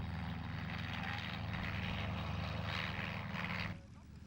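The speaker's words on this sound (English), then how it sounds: "More and more aircraft, like this Yak-52, have been coming in out of the cold." A Yak-52 military training aircraft running its radial engine at a 1993 air rally in Wroughton, a steady close propeller drone with a low throbbing hum that eases off near the end, with voices under it.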